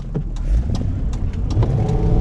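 A Lincoln LS V8 car with traction control switched off pulls under acceleration, its steady, loud engine drone rumbling continuously from inside the cabin.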